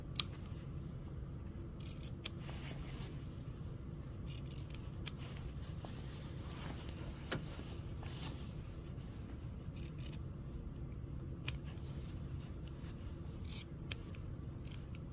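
Scissors trim the fabric seam allowance of a sewing project in quiet, close snips, a series of small cuts spread across the stretch over a faint rustle of cloth.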